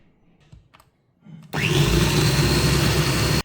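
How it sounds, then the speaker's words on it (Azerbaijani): An electric mixer whirs steadily and loudly as eggs are beaten with powdered sugar for a sweet pirok filling, kicking in abruptly after a few quiet kitchen clicks. "Yumurta ilə şəkər tozunu qarışdırdım."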